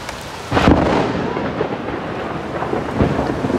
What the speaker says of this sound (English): I'm waiting for another nice crack of thunder.